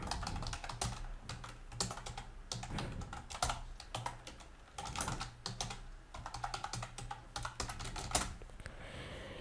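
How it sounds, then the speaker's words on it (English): Steady, fast typing on a computer keyboard while entering an email signature in Outlook, with dense clicking keystrokes running continuously and close throughout, no voices. "now enter here your signature name and now type your signature here"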